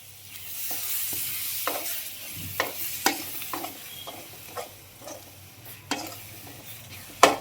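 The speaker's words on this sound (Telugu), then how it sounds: "ఇది కూడా బాగా పచ్చివాసన పోయేంత వరకు బాగా వేయించుకుందాం" Thick blended raw tomato paste sizzles steadily in a pan for prawn curry while a spoon scrapes and clinks against it at irregular intervals, close and fairly loud, with no talking.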